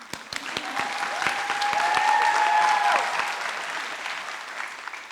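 Audience at an LPN nursing class graduation claps in a moderate wave of applause, individual claps audible, with a brief cheer rising midway before the clapping eases off.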